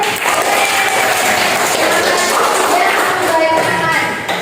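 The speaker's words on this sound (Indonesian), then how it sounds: "Tepuk tangan buat Om." A school class claps for a visiting guest, steady dense applause from many hands filling the room at close range, sustained evenly for a few seconds before tapering slightly.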